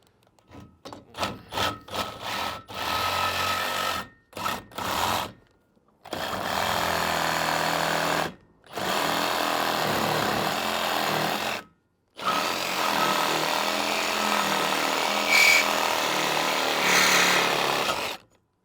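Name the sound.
power tool cutting on Tahoe T16 boat trailer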